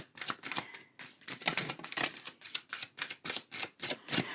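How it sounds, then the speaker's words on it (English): A tarot card deck being shuffled by hand, giving repeated crisp riffling and slapping bursts in an irregular rhythm, close and fairly loud, with no talking. "Always feel free to fast forward through the shuffling if you're so inclined."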